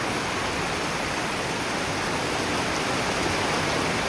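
Torrential typhoon rain falls outdoors in Pangasinan as a constant, wide wash of noise, near and loud, holding steady for the whole stretch without talk.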